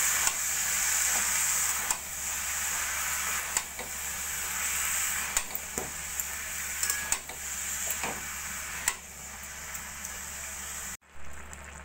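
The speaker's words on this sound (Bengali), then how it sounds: "এবার আমি দিয়ে দেবো সিদ্ধ করে নেওয়া বাঁধাকপি। তো বাঁধাকপিটা ভালো করে মশলার সঙ্গে মিশিয়ে নেব।" Boiled cabbage is stirred into fried tomato, potato and pea masala in a pan for a cabbage curry, with a continuous close sizzle and a few scraping stirs and knocks throughout, ending in a sudden brief cut.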